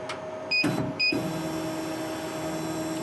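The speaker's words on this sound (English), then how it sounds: "Look, it turns all 4 lead screws, so this bit goes down." Laser cutter bed lowered by a stepper motor turning four lead screws, heard as two short electronic beeps with clunks, then a steady low motor hum running on, faint and close.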